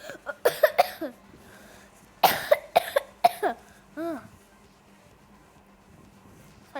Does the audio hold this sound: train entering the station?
no